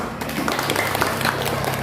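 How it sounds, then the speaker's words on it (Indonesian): An audience of children and adults claps at an Indonesian school event, a dense, steady patter of many hands, fairly loud and continuous throughout with no voices over it. "Tepuk tangan lagi."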